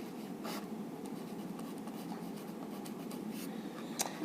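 Pen scratching across paper while sketching a diagram, a steady run of soft strokes and taps, close and quiet, with no voices.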